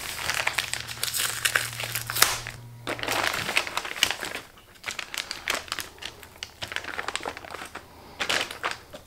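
Plastic packaging around a brisket being torn open outdoors beside a Weber kettle grill, with bursts of crinkling and crushing plastic coming in irregular close-up handfuls and short pauses between them.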